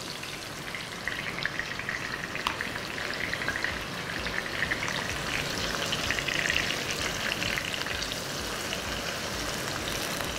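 Chicken pieces fry in a hot pan for shawarma, a steady, dense crackling sizzle close by that continues throughout with small pops and no talking.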